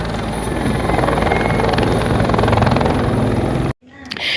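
A helicopter at an election rally in Kusheshwarsthan, Darbhanga, roars loud and close with steady rotor chop and broadband engine noise, then cuts off abruptly near the end before noise briefly returns.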